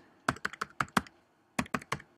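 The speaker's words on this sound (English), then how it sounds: "I'm typing in my password for my hotspot" A password is typed on a keyboard in two bursts of crisp, close keystrokes separated by a brief pause, with no talk.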